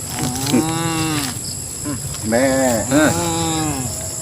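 A person imitates the bleat of a billy goat with a series of wavering, nasal calls, close and loud, repeated several times with short pauses.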